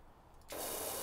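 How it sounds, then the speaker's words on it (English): Pressure washer spraying at close range in the PowerWash Simulator video game, a steady loud hiss that kicks in halfway through after a quiet start and holds unbroken to the end. "I'm just holding this down, spraying close range."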